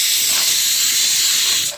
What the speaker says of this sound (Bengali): আর এদিকে আমি সয়াবিনের আলু ভেজে নিচ্ছি।